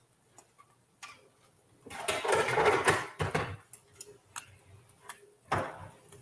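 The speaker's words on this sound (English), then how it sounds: "Hear those eggs frying?" Eggs fry in a pan in a home kitchen: scattered light ticking pops, then a louder crackling sizzle burst, followed by more sparse pops, with no talking.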